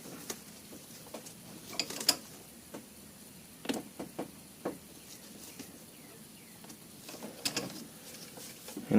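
Close metallic clicks and faint creaks come from hand-tightening a brake pressure regulator fitting on a Porsche 928, sparse irregular ticks over a quiet background.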